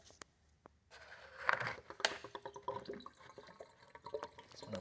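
Windshield washer fluid poured through a strainer into the reservoir of a 2017 Kia Sportage 2.4L, a soft close trickle and splash of liquid that starts after a quiet pause and continues unevenly with small drips.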